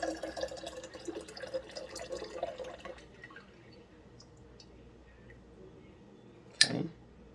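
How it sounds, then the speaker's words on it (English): Brewed dandelion tea pours into a jug in a soft, faint liquid trickle, with a brief louder splash near the end. "I'm going to just go ahead and pour my tea off inside this jug"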